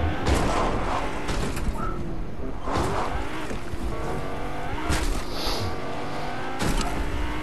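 A car drives in Fortnite, its engine droning steadily and close throughout with shifting revs, bumps and thuds, and a whooshing roar over the ground.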